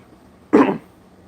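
One short, close cough bursts out of a quiet room and stops quickly.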